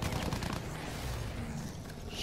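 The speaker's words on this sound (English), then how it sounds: "All you hear is like gunshots and explosions." Battlefield 1 gameplay gunfire, a dense continuous rattle of machine-gun and rifle shots with explosions blending into a loud wartime din.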